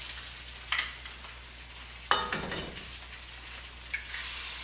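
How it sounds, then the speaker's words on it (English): Two eggs fry in a pan of chicken stir-fry over medium-high heat, with soft sizzling and several scraping stirs of a utensil, the loudest in the middle. "I'm gonna put my egg in there. So my egg can be incorporated and fried in as well."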